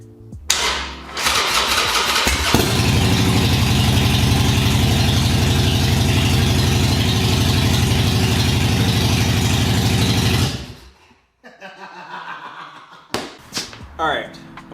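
A broken Harley motorcycle engine cranks, catches and roars into a loud steady running drone for several seconds, then cuts off, followed by a few clunks.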